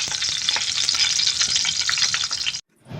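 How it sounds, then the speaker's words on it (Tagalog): Garlic frying in hot oil in a pan, a steady loud bright sizzle with occasional stirring scrapes, cutting off abruptly near the end to a brief quiet. "ipiprito na natin yung ating bawang"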